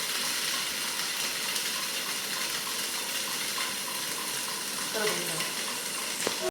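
Paneer pieces shallow frying in a pan over high heat give off a steady, dense sizzle with a few faint clinks near the end.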